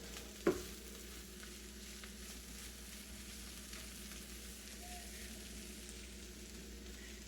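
Hungarian cabbage noodles (káposztás kocka) frying in a pan while being turned and flattened: a soft, steady sizzle throughout, fairly faint, with one sharp knock of a utensil near the start.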